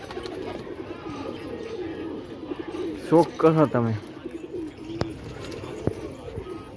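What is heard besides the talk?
startled pigeons cooing and flapping after a hawk attack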